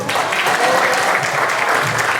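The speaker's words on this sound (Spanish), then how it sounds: "Un aplauso para él, por favor." Audience at a 2019 ufology congress in Lima claps warmly in a dense, sustained burst that stays steady and loud throughout, with no one speaking over it.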